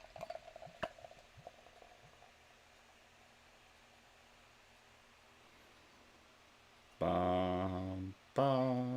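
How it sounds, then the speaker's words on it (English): Beer pours slowly into a Harpoon Limited Edition snifter with a faint, steady fizzing hiss that runs for several seconds before a voice briefly hums loudly nearby. "We're going to get into the theatrics of a 5-minute pour."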